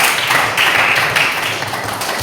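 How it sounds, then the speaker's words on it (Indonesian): A classroom gives steady, close applause for a student group's presentation. Many hands clap in a dense, even wash that fades slightly toward the end. "Kita beri tepuk tangan untuk kelompok 2"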